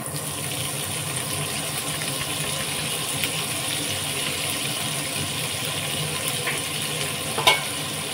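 Onions dropped into hot oil in a pan after black cumin tempering, frying with a steady, dense sizzle that holds evenly throughout, close and constant, with one brief sharp clink near the end and no talk.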